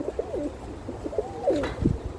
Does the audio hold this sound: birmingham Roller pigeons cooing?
yes